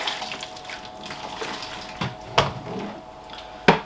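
Hot tap water runs steadily for a double rinse while cleaning reptile gear, a continuous hiss of flowing water with a few sharper splashes and clanks.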